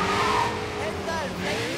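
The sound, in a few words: motorcycle racing in video game Sleeping Dogs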